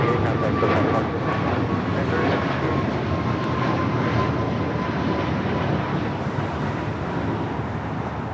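A Boeing 777-200ER jet at LAX gives off a dense, continuous roar that holds steady throughout, loud and broad, with faint radio-style voices audible beneath it.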